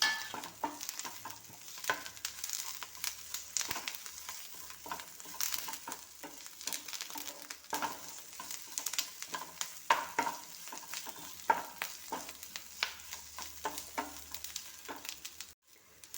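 Curry leaves frying in hot oil while being stirred for a chutney, a steady soft sizzle with frequent scraping and clicking of the spoon throughout, fairly quiet and close.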